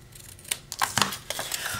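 Scissors trim a flap on a cardboard gift box, giving a few quick close snips and papery crunches in a brief series.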